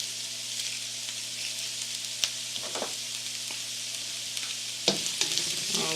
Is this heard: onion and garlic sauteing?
yes